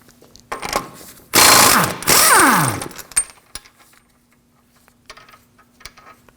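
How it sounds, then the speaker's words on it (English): A 32mm socket on a ratchet and a power tool work the front axle nut of a 2013-2015 Subaru XV Crosstrek 2.0L, giving two loud grinding bursts with quick ratchet clicks before and after. "To remove the axle nut, use a 32mm socket."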